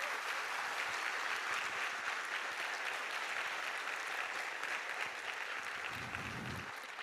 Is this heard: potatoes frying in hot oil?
no